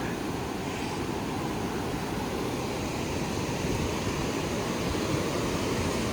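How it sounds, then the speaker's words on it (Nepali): A swollen river running high after heavy rain, a dense, steady roar of rushing water filling the whole stretch with no pauses, no voices over it. "एकदमै अत्याधिक मात्रामा बढेको थियो खोला"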